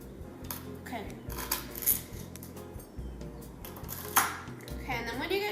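A knife chops stalks into thin slices on a cutting board, with light, irregular taps and clinks close by under steady talking.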